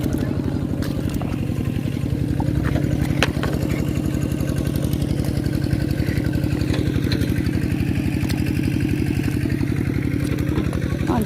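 A small single-cylinder walking tractor engine plowing a field chugs steadily in a fast, rhythmic putter nearby, with faint clatter and occasional distant voices.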